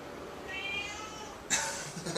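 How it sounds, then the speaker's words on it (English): Cats yowling and meowing in a scuffle outdoors, with a drawn-out wavering cry followed by a sudden sharp, loud squall, moderately close. "there's a cat fight going on over here."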